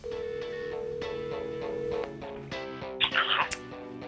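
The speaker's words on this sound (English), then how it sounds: "So I'm gonna give Murray a phone call" An outgoing telephone call rings out with a steady electronic tone followed by shorter repeated ring pulses, moderately quiet, with a brief noisy burst near the end.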